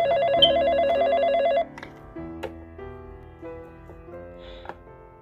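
A telephone rings with a loud, close electronic bell tone for about a second and a half, then stops, leaving quieter room sounds behind.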